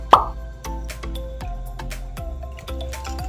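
Almond milk goes into a bowl of paleo blueberry pancake batter with one sharp, close plop, followed by a string of soft, irregular knocks and taps.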